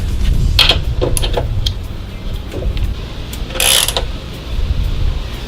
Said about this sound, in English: I'm going to tighten up this other side.